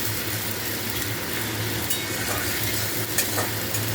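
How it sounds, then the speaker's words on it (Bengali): Ginger and a small amount of onion fry steadily in a pan with oil, giving a continuous close sizzle with a low background hum, no talking. "তো এটা ভালো করে ফ্রাই হচ্ছে।"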